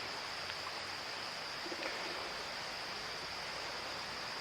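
An Optimus Nova liquid-fuel camp burner roars under a kettle on a vintage red Trangia 27 stove, a steady, hissing, broadband rush that stays even and fairly faint throughout, with no voices.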